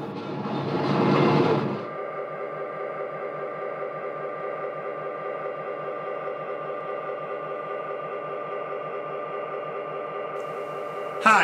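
Lionel model passenger trains circle a home layout with a steady, rhythmic clatter and hum of wheels on track. A burst of broadband noise opens the stretch, and the running sound continues evenly and moderately loud.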